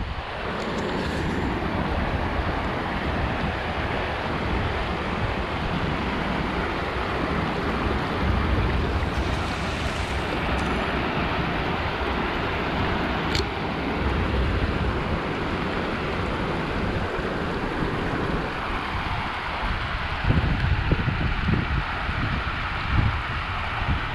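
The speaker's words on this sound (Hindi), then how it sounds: "ये जो पानी आप देख रहे हैं ये आ रहा है, अभी ये कोकरजेर डैम से आ रहा है" Overflow water from the Kokarjer dam rushing past after heavy rain fills the dam, heard as a steady, loud, broadband roar with wind buffeting the microphone and no talking.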